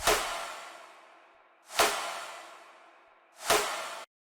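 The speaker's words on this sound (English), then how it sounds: "For the snares I used 3 layers, 2 from the Millennium Pack and 1 rim hit" Three punchy layered snare hits, two samples from the Millennium Pack plus a rim hit, crack out at slow even intervals, each ringing into a long fading tail before the next.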